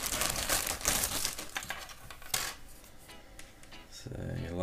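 Plastic wrap on a 1/24 scale Lindberg '37 Ford convertible model kit is cut and torn open up close, with crinkling, snipping and rustling that thins out before a soft thud at the end.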